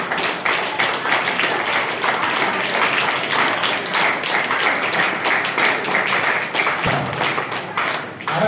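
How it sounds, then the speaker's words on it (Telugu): An audience at a yoga competition prize event applauds enthusiastically, a dense, sustained patter of many hands clapping at steady volume for several seconds, with faint voices underneath. "అడగకుండానే ఉత్సాహంగా చప్పట్లు కొడుతున్నారని"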